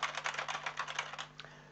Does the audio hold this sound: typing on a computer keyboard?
yes